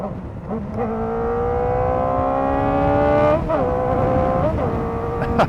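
A 2024 Kawasaki Ninja ZX-4RR engine revs up in rising pitch with the rider shifting gears, two quick upshifts dropping the tone before it climbs again, loud and close.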